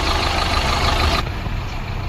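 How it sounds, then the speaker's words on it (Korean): A 2009 Kia New Morning LX base model with 77,000 km idles steadily with a loud, even low engine hum that runs continuously, with no voices. "엔진 소음이나 뭐 이런 것도 굉장히 깨끗하게 들리고 있습니다"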